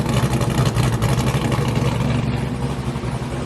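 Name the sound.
cammed LS-swapped G-body car engine with full exhaust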